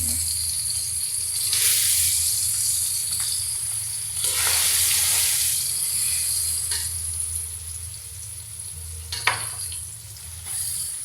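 Boiled, mashed olives for pickle go into a hot pan and sizzle steadily, with bursts of stirring and frying that swell and fade over several seconds, close and fairly loud, no talking.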